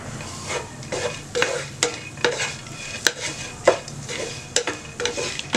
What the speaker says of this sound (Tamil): இப்போ இதை வந்து நல்லா வந்து கலக்கி விடுங்க.